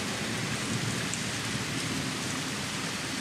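Heavy rain falls steadily in a SKAM France scene, a constant close hiss with a low rumble underneath that hints at thunder, and no one speaks.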